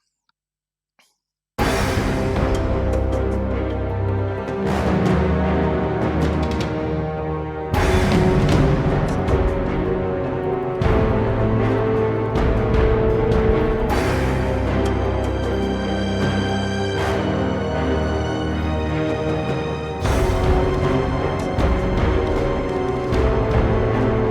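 End-of-level video game music starts after a short silence and plays loud and full, with strong recurring hits or chords every few seconds over sustained tonal layers.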